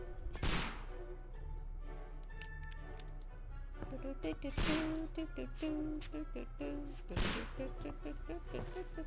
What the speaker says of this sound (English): Sherlock, must we shoot everything?